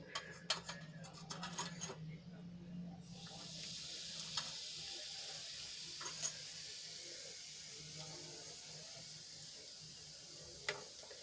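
Half a spoon of Kashmiri red chili powder goes into hot oil for a tempering, with the gas turned off. A soft, steady sizzling hiss rises after a few faint clinks and carries on evenly.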